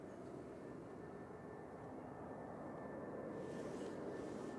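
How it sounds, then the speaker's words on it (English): Brussels Airlines flight 2183, an airliner in Atomium livery, arrives at Manchester Airport as a faint, distant low engine rumble, steady and soft with a slight rise near the end. "This is the Brussels coming in from Brussels flight 2183."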